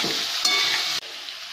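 Elephant foot yam being stirred in a pan, a close scraping and sizzling that runs steadily, with a brief louder scrape partway through and a quieter stretch at the end.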